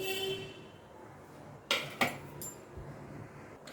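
Hot oil being spread around the inside of a kadai before frying salted, turmeric-coated paneer, with a couple of sharp metal clinks and a light scrape of a utensil against the pan over a quiet background.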